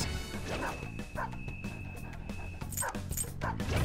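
Dog in the video game Persona 5 Royal, during a bank heist level, giving a series of sharp repeated barks and yips over game music, fairly close and moderately loud.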